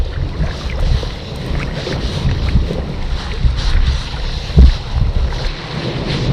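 Gusty wind buffets the microphone beside a freshwater trout stream, a loud continuous rumble with gentle water sounds beneath and no talking.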